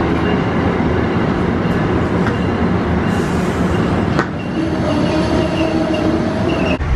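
Loud, continuous rumble of an Amtrak train rolling into a station, with rattling rail noise and a faint metallic squeal, no voices.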